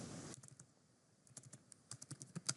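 Typing on a computer keyboard while a C++ recursion program is written, with quiet, close key clicks in irregular bursts that quicken toward the end.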